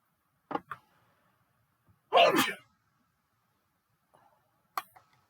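A single sharp sneeze bursts out between a few faint clicks and small breathy sounds, close and otherwise quiet.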